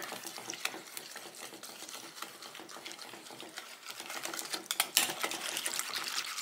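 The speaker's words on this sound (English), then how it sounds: "I'm going to give this a good stir" Mayonnaise being stirred into a mixture in a bowl, giving a steady run of close, wet scraping and clicking utensil sounds that continue throughout with no talking.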